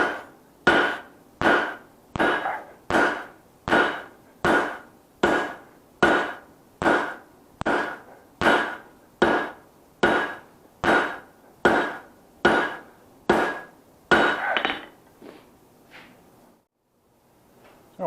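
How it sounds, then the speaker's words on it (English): Hammer striking paring knife steel on the edge of an anvil during forging, about twenty evenly spaced ringing blows that stop near the end, close and clear with no talking. "Just hit it right on the edge of the anvil"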